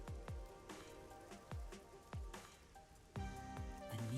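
Rain falling in a neon-lit city street in the video game Rain Code: soft pattering drops with a handful of distinct, wet plinks and splashes over a quiet hum, with no talking.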